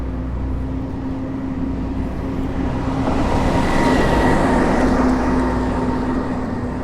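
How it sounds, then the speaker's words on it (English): A loud, steady mechanical rumble from a garbage truck, with a low engine drone and a sustained hum, building slightly toward the middle, close by. "I can't escape that loud trash truck"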